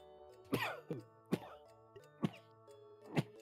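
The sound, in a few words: sneeze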